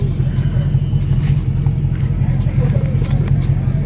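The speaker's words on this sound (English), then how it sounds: "Let the car warm up. Get that bitch hot and ready." A Dodge Challenger Scat Pack engine warms up at idle with a loud, steady low rumble throughout, close and unbroken, at a two-step competition.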